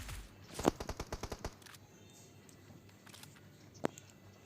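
Gunfire in the mobile battle royale game PUBG Mobile: a rapid burst of about eight automatic shots, then quiet, then a single sharp shot.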